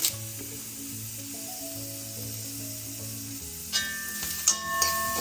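Grated coconut and curry leaves roast in a pan for a Malabar sambar, giving a soft, steady sizzle and hiss. A few louder crackles come near the end, with faint background tones underneath.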